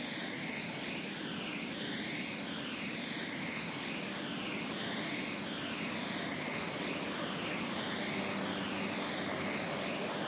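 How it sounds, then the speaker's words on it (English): Helicopter flying in the DayZ survival video game, a steady, loud droning engine and rotor whir with a cyclical wobbling tone that continues unbroken throughout, with no talking. "His mate, who is terrible at handling helicopters."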